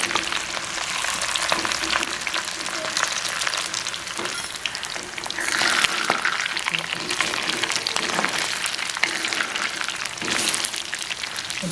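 Pieces of cuttlefish deep frying in hot oil give a steady, dense crackling sizzle throughout, with brief louder bursts and a few faint clinks, close and continuous.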